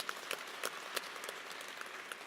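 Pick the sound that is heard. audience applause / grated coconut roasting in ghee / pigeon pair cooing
audience applause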